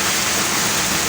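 Heavy rain pours down in a dense, loud, unbroken hiss that fills the whole brief moment, close by and with no voices.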